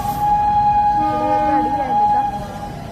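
Loud rumble of a train arriving close by at Pune station, with a sustained high metallic squeal of wheels or brakes over steady low noise.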